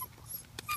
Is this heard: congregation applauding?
no